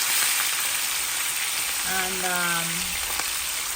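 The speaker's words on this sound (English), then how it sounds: "I am frying it in olive oil." Red snapper fillets fry in hot olive oil with a constant bright crackling sizzle that runs throughout, while a voice speaks briefly partway through.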